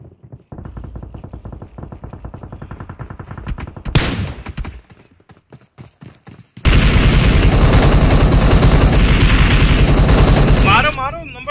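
Gunfire rings out in the PUBG Mobile video game. Rapid, evenly spaced shots rattle first, then a loud burst, and finally several seconds of dense, continuous automatic fire that cuts off abruptly.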